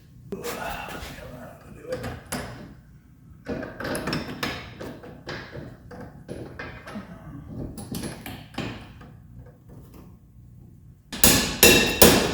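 Sharp metallic hammer taps on rear suspension parts of a Porsche 911T, ringing out in irregular bursts, some single, some in quick clusters, close by, ending in a louder clatter.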